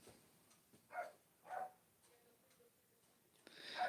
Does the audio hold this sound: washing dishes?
no